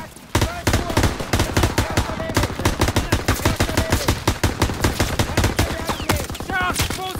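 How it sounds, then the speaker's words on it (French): Relentless machine gun fire in Call of Duty WW2 hammers out in fast, steady, loud bursts for several seconds, with soldiers shouting faintly beneath the clatter. "Neutralise cette mitrailleuse!"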